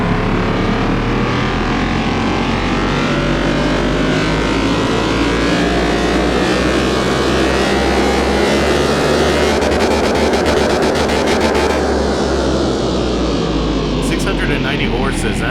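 Modded Nissan 370Z engine revving hard on a dyno in Car Mechanic Simulator 2021, a loud sustained drone that climbs steadily, with a buzzier stretch near the end, under a voice talking throughout.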